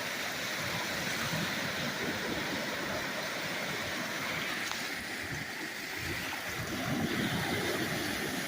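Continuous rushing wash of water, like waves rolling and breaking steadily along a Lake Superior shore on a wavy day, with no voices.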